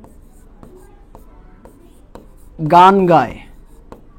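A sentence is written on a board during a lesson, heard as faint, separate strokes and taps, with a short spoken phrase in the middle.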